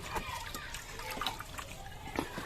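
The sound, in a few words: rice-washing water poured into a bucket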